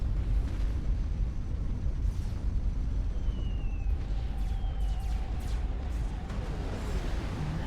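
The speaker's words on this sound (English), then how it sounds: "And down comes the bombs from ZLO." Strategic bombers drop bombs that explode in the Supreme Commander game. A dense, rumbling roar of blasts and low booms goes on steadily over a noisy battle background, heard without voices.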